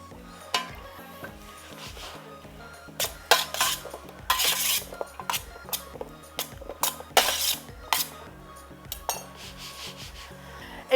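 Cassava pieces tipped into a roasting tray and tossed with a drizzle of olive oil, giving repeated metallic clatters, scrapes and utensil knocks against the pan, close and fairly loud in irregular bursts.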